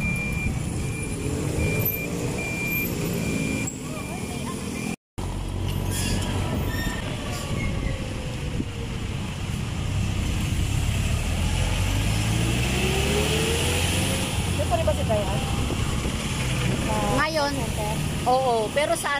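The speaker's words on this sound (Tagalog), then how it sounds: "nandito na tayo sa highway na ma-traffic" Heavy traffic on a busy highway, with cars and trucks rumbling past close by in a steady stream, broken by a brief dropout. People talk over the noise throughout.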